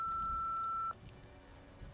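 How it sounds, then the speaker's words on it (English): A single steady electronic answering-machine beep from the video game Nancy Drew: Midnight in Salem sounds clearly for almost a second, then cuts off into faint room hiss. "please leave a message after the beep"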